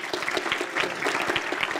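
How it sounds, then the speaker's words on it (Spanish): A church congregation claps for the pastor during a Spanish-language service, with brisk, continuous applause filling the room throughout. "Da un aplauso al pastor."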